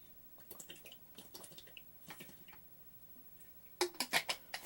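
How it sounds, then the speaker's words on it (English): A person sips water close to the microphone, giving a series of soft wet slurps and small liquid clicks, quiet at first and then a louder cluster of gulping sounds near the end, with no talking. "That sound you were hearing right then was me getting a sip of water"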